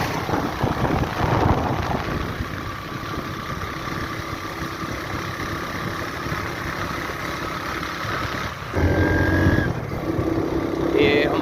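A motorcycle rides along the mountain road from Balakot toward Kawai and Naran Kaghan above a river, its engine droning steadily under heavy wind rush, growing louder near the end.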